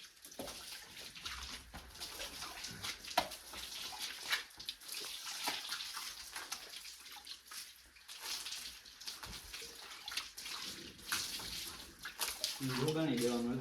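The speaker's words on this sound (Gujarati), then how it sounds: "ઘોડીને માથે પાણી બાણી નાખી દે" Water is poured and splashed over a mare's head, a steady running wash with sloshing bursts, while people talk nearby.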